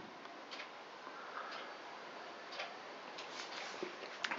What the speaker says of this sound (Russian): Часы на кухне, да?